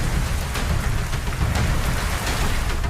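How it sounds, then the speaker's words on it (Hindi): Heavy monsoon downpour flooding streets and lanes in Dhaulpur, India, a loud, unbroken roar of rain hammering surfaces, steady throughout with no talk. "धौलपुर में झमाझम बारिश के चलते गली मोहल्ले, सड़कें, घर बार सब लबालब है।"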